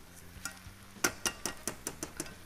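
Rice toasting in a pan on top of carrots for Uzbek pilaf, with a soft sizzle under repeated sharp clinks of a spoon stirring against the pan, fairly quiet and close.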